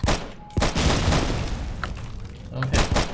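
A grenade blast in the Korean online shooter Sudden Attack during a ranked match, with heavy booms and a rapid burst of gunfire close up, then another loud hit near the end, over the players' excited talk.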